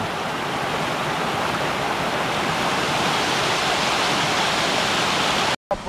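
The Rezzago river near the Triangolo Lariano area flows in a steady, loud, broadband rush of water, continuous and close, with no talking, cutting off abruptly at the end.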